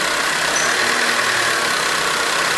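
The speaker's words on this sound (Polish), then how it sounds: "już jak się stabilizuje silnik. Coraz wolniejsze obroty ma." A 1.4 Opel Corsa engine idles steadily after an idle adjustment, its revs settling into an even, continuous hum at close range with no other sound over it.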